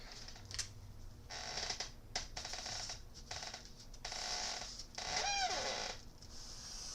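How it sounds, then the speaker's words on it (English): A squeaky chair creaks in a hobby workspace during scale model building, giving a short rising squeal with a few thin harmonic chirps after scattered scraping and handling noises nearby. "Sorry about the squeaky chair."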